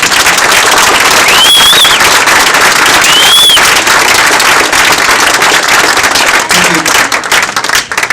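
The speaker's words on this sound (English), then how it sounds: "So let's give them a big round of applause." Applause from a crowd at a county Democrats' clambake, a sustained loud wash of clapping with a few whistles cutting through, tapering off near the end.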